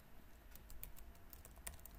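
A computer keyboard being typed on in a quiet room as a command is entered: a handful of soft, quick key clicks in an uneven patter, faint and close, with no talking.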